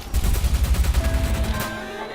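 Rapid gunfire in the video game Watch Dogs, a dense burst of loud shots in quick rhythm lasting about a second and a half, then a lingering tonal hum as the firing stops.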